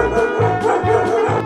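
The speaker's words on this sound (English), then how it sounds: "Dog." A dog gives a string of about four short, yappy barks in even rhythm, loud and close over a steady musical background.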